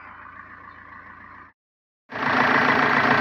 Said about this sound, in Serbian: Ispod haube nalazi se dizel motor 1900 kubičnih santimetara